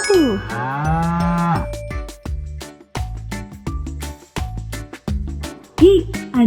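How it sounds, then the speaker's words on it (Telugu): A cow gives a long, loud, drawn-out moo up close, then a run of evenly spaced rhythmic beats follows in a children's rhyme. "ఆ అంటే ఆవు"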